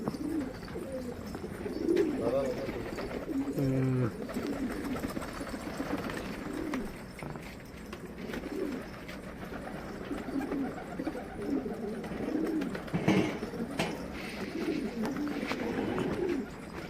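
Flight pigeons cooing inside a crowded loft, soft overlapping low coos and rustling continuing throughout at moderate distance, with no talking.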